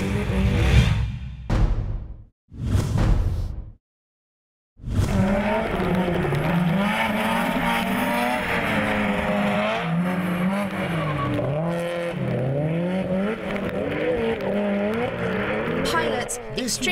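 Drift cars, a Subaru against a Ford Mustang, at a Lédenon round of the French Drift Championship: a few loud roaring bursts and a short gap, then a commentator talks continuously over steady engine and tire noise.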